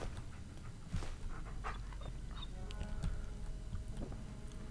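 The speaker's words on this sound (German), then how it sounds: "Dogmeat solidarisiert sich gerade mit meinem Hund, weil die Geräuschkulisse ist fast identisch" A dog panting in the Fallout 4 game, joined by a real pet dog panting under a desk: soft, steady breathy panting with a few faint whimpers over low background hum, fairly close and continuous throughout.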